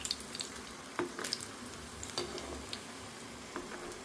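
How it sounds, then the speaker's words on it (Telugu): Stuffed sweet dumplings (purnalu) for Varalakshmi Vratam puja prasadam fry in hot oil, giving a quiet, steady sizzle broken by a few light clicks and scrapes as they are turned, with no talking. "ఇవి ఇంకా మంచిగా ఎర్రగా మంచి కలర్ వచ్చే వరకు వేయించుకోవాలి"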